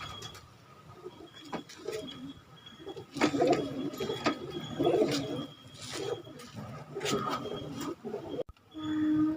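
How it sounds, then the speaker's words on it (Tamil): Thamarai breed pigeons coo in repeated soft, throaty phrases, close and continuous, with wing shuffles and small clatters in a loft and a brief sharp knock near the end. "இது அத்தனையும் தாமரை இனத்து புறாக்கள்."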